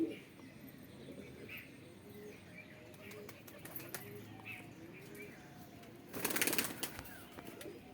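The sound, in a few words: Madras pigeons cooing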